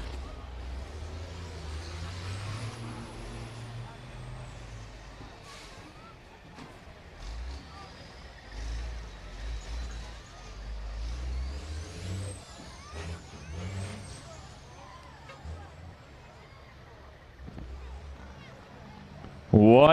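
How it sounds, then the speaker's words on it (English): Semi trucks race on a high-banked track at night, engines roaring past in waves with hissing air brakes, heard from a distance while an announcer talks throughout. "Rest of the trucks get by here."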